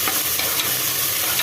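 Chopped onion, green chilli and ginger garlic paste being sautéed in a pan give a steady, dense sizzle with a faint stirring scrape, close and continuous throughout.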